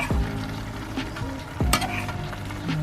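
Vegetables simmering in coconut milk for ginataang gulay are stirred in a pot, a soft bubbling sizzle broken by a couple of distinct scraping strokes; no speech.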